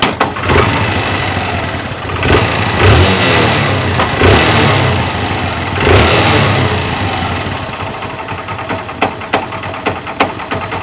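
Honda CB125 motorcycle engine running close up with a rattling clutch damper, a loud steady idle chatter with a few throttle blips and sharp ticking knocks toward the end.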